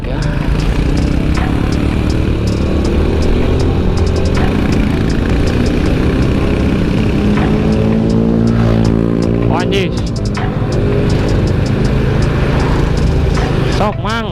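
Traffic on the road between Ciamis and Bandung, with a car passing close by a moving motorcycle; steady loud engine drone and road noise fill the whole stretch, with a rising-falling pass around the middle and people talking over it.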